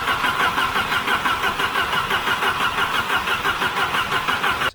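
A 1988 Volvo 740 engine runs steadily after years in storage, a loud, even mid-pitched idle with a regular pulsing rhythm that continues without voices and cuts off at the end.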